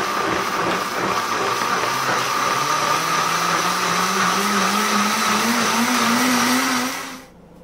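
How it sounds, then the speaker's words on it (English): A Vitamix blender purees chipotle chicken sauce for chicken tinga on its puree setting, a loud steady motor roar with a rising whine that runs for about seven seconds and then cuts off abruptly. "let the Vitamix do its thing"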